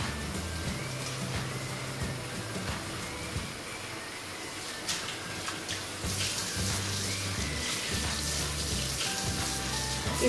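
Tie-dyed fabric being rinsed in clean water, with a steady gush of running tap water and soft splashing and sloshing as the cloth is handled, close and continuous with no talking.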